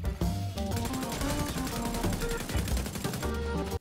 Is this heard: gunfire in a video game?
yes